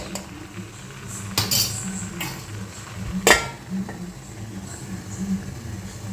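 A pot of lentils with rice dumplings is gently stirred and then covered with a lid: a few soft metallic clinks, then one sharp, close clatter, over a low steady background hum.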